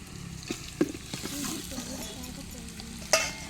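Ginger garlic paste sautéing in a pan with onions for home-made chicken biryani, a soft sizzle under scattered clinks and scrapes of a spoon stirring, one sharper metallic knock near the end.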